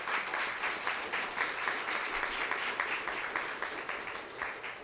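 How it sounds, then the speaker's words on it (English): An audience at an education summit applauds a panel, with a sustained, fairly distant patter of many hands at steady moderate volume. "Can we get a round of applause for them?"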